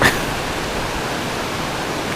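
Water pouring over a river spillway, a steady broadband rushing roar that stays constant and fairly loud throughout.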